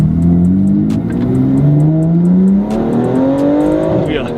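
A tuned BMW X3M 4x4 accelerating hard on the road, its engine note climbing steadily through the gears with loud, sustained revving from close inside the cabin.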